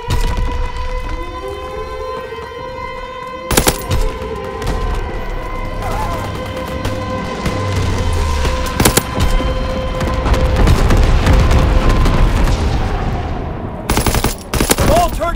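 A low-altitude bombing run and gunfire in Call of Duty WW2, with loud, dense battle noise, bursts of automatic fire, sharp blasts and siren-like tones that continue throughout, with no clear talking.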